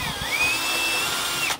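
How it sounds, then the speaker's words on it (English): A power drill with a large bit bores slowly through composite panel, a single sustained high whine that wavers and steadies before cutting off abruptly near the end, close and alone. "that's a big drill bit, and so it's just going to tear the composite"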